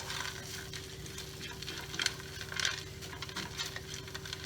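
About 2.5 cups of frozen corn sizzles softly in oil in a pan, with faint scraping stirs and a low steady hum beneath, quiet and close.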